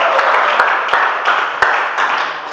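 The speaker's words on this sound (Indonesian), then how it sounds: "Tepuk tangan untuk kalian semuanya." A classroom group applauds after batik lesson presentations, a loud dense wash of clapping throughout with a few sharper individual claps standing out.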